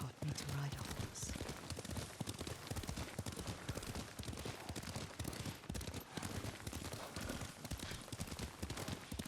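Steady clip-clop of horse hooves at a riding pace in Ghost of Tsushima, continuous and fairly close, mixed with ambient game sounds and a brief snort near the start.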